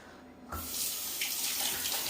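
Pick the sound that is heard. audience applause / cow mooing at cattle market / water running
water running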